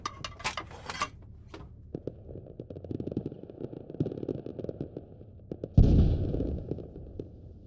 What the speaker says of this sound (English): you can simply fire two rounds into the same spot to cause it to cook off as well